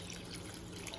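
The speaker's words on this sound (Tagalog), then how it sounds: "Tapos buhusan natin ngayon ng tubig." Water pours steadily into a cooking pot in a continuous close splashing stream, with no speech.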